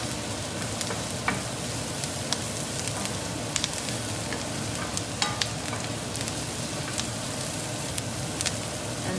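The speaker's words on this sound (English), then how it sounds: "And now add garlic. Again, not too much saute or overcooking." Garlic sautéing in a pan gives a continuous, dense sizzle with scattered crackles and pops, close and fairly loud, with no voices.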